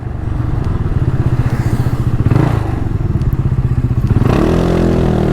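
A Yamaha Aerox scooter being ridden, its steady buzzing engine loud and close with continuous road rumble, pitch settling near the end as the throttle changes.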